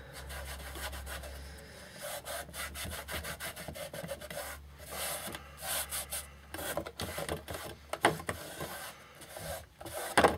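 Steady rasping rubs of a special sealing wax worked by hand over a tall paper-napkin decoupage project, close and dry with irregular strokes and brief pauses, no talking.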